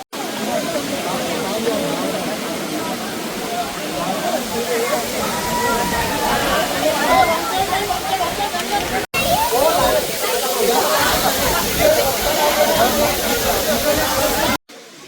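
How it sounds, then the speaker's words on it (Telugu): Waterfalls on a trip around Araku and Vanjangi pour with a loud, continuous rushing hiss and splash that fills the scene, and a babble of voices sits faintly beneath the roar. "వాటర్ ఫాల్స్ చాలా బాగున్నాయి గైస్"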